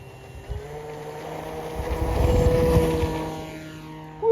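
An RC Beechcraft Bonanza G36 model plane with retractable landing gear throttles up for takeoff, its engine drone swelling to a loud steady peak midway and then easing slightly, heard alone without voices.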